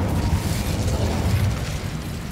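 An Incendio fire spell bursting in Hogwarts Legacy, a short roaring, crackling whoosh of flame with a deep low rumble, loud and close, no speech.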